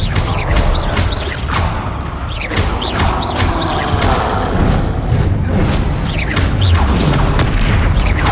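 Fiery Confringo spell blasts from the game Hogwarts Legacy go off in a loud, steady barrage of booming explosions and sharp whooshing hits layered over heavy battle rumble, with no talking.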